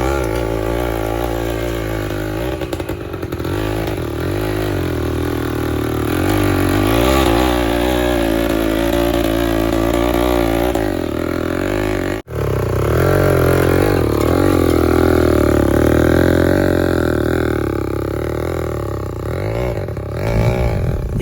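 A homemade cultivator powered by a motorbike engine drones loudly and continuously nearby as it turns around a coconut tree, its revs rising and falling with a brief dip partway through, no speech.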